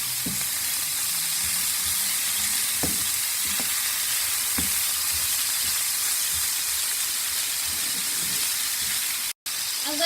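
Potatoes and green chillies fry in a pan with a steady, continuous sizzle and hiss, broken by a few soft scraping stirs and a brief clatter near the end.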